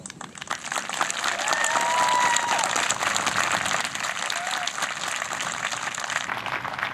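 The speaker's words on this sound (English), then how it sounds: "Please join me as we honor this group with a round of applause." Applause from the audience at an eighth-grade promotion ceremony, dense clapping that swells after a second and holds steady, with a faint cheer or whistle and scattered voices.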